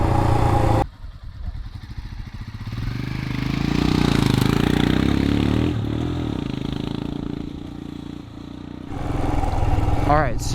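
A 2021 Royal Enfield Himalayan BS4 motorcycle ridden over a dirt road, its engine droning steadily with rushing wind and rattling from the rough surface, while a rider talks over it.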